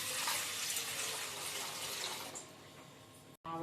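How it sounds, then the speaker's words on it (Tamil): Water gushes steadily into an idli steamer pot for a few seconds, a close, bright splashing pour that tapers off near the end. "இப்போ ஒரு இட்லி பாத்திரம் வச்சுக்கலாம். இப்போ தண்ணி ஊற்றிக்கலாம்."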